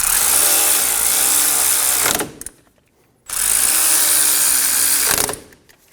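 Power tool spinning brake caliper bolts snug on a Scion xB front brake job, heard as two loud sustained whirring bursts of about two seconds each, separated by a short pause with faint mechanical clicks.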